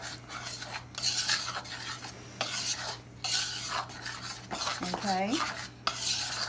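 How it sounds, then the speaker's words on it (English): A utensil stirs sugar, baking powder and salt into flour and butter in a bowl for whipping cream scones, making repeated close scraping and clinking strokes; a single word is spoken briefly. "I'm going to mix that in with the flour and the butter"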